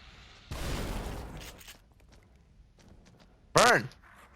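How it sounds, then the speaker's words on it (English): A shotgun blast goes off in The Evil Within on AKUMU difficulty, a single loud, roughly one-second boom up close. A quiet stretch follows, then a brief sharp shout, with a voice talking at points. "Shotgun and burn."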